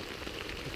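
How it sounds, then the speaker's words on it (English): Heavy rain pouring down at a mountain campsite, a continuous close hiss of drops with no voices during this brief stretch. "It's been pouring down rain all day."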